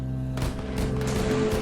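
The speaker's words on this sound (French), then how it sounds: "vous entendez pas les coups de feu?" Gunfire crackles in a zombie video game: several quick, harsh bursts of shots in rapid succession over a steady droning game soundtrack.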